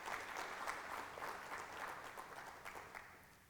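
Faint, distant applause from an audience at a meet-and-greet with Karnataka's Industries Minister in Dallas: steady clapping that tapers off near the end.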